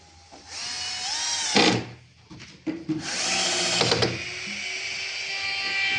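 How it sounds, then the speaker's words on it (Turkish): Power drill driving screws into the wooden frame of a chicken coop, with two sustained whirring bursts of the motor, each ending as the screw seats, close and loud with a brief pause between them. "ikişer adet vida atayım"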